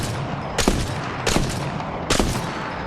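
Three heavy rifle shots from the Longbow marksman rifle in Apex Legends, each a sharp broadband crack with a short tail, spaced about three-quarters of a second apart over steady game background noise.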